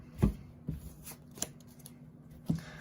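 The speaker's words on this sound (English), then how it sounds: "just doing a quick shuffle into test hand 2" Quick shuffle of a deck of trading cards for a test hand, heard as a few sharp riffle-and-tap bursts spaced apart, close and clear with no talking.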